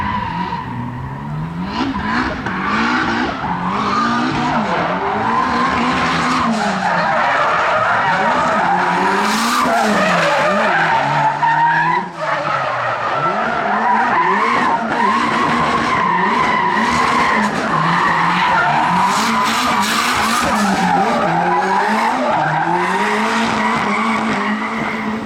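A drift car on a practice round skids in long tire squeals that rise and fall over a loud revving engine, sustained and close throughout with a brief dip midway.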